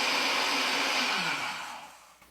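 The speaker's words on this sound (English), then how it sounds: "the Ace will blend the soup by pulsing in 7-second intervals" An Ace blender whirs loudly while blending vegetable soup, a dense continuous motor roar that holds steady and then winds down and fades over its last second, with no talking.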